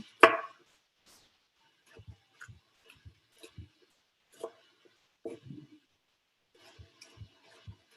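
Knife chopping broccoli into small pieces on a cutting board while cooking a stir fry, with sparse, irregular taps and thuds spread across the stretch after one louder knock at the start, fairly quiet in a still kitchen.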